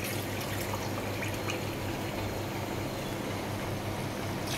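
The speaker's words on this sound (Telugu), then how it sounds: "1/2 లీటర్ వాటర్ పోస్తున్నాను." Half a litre of water pours steadily into a pot of mutton gravy made with tamarind juice, giving a continuous close hiss and splash with no pauses.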